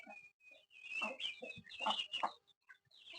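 Free-range village chickens clucking close by, a flurry of short overlapping clucks and squawks in quick irregular bursts, no voices.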